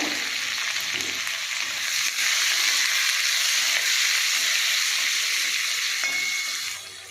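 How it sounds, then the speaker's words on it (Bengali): Onion frying in oil in a wok with black cumin seeds, dried red chilli and garlic, a steady, close hissing sizzle that holds evenly and eases off at the end, with no voices. "আমার পেঁয়াজ ভাজা হয়ে গেছে।"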